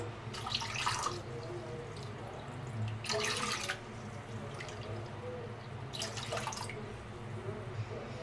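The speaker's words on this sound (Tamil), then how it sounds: "நம்ம இன்னும் 3 கப் அளவுக்கு தண்ணி சேர்த்துக்கலாம்." Water is poured in bursts into wheat flour and grated coconut for a sweet, three distinct splashing pours spaced a few seconds apart over a low steady background hum.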